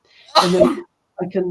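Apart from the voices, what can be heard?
sneeze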